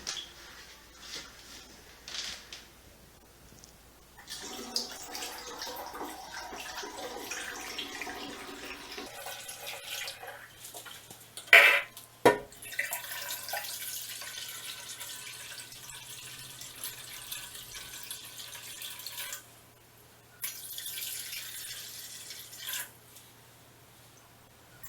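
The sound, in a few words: water pouring into an oak barrel for lavender wine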